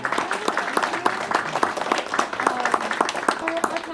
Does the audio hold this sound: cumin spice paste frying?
no